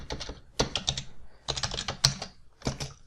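Close, quick bursts of keystrokes on a computer keyboard, four short clusters of clicky taps separated by brief pauses, fairly quiet with no talk.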